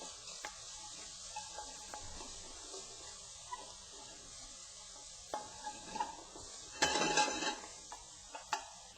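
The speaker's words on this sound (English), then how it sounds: "I'm cooking the bacon crispy, rendering out the fat" Bacon frying in a pan until crispy, rendering its fat, with a steady sizzle running throughout, light utensil scrapes and clinks against the pan, and a brief louder burst of sizzling near the end.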